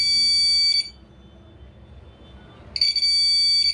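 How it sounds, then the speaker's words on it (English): A bike theft alarm buzzer gives two short, loud, shrill electronic bursts at the start and end, separated by a quiet gap with faint background hum. "When bike position is changed according to its axis, it gives alarm, as you can see."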